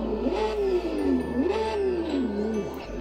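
A Porsche 911 (992) GT3 Cup car in the game Assetto Corsa on the Le Mans track, its engine revving up and down in three rising, falling sweeps over a low steady hum, with no talk.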